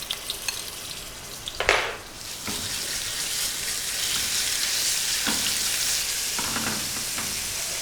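Ginger and garlic paste goes into three tablespoons of hot oil for a spiced eggplant dish, with a few clinks and a splash before a steady, bright sizzle takes over.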